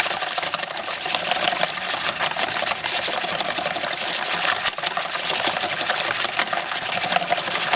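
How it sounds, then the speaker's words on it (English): Eggs beaten with a wire whisk in a bowl, a fast continuous rattling clatter of the wire against the bowl, steady and close throughout. "I'm going to beat that for first, so use it with the wire whisk."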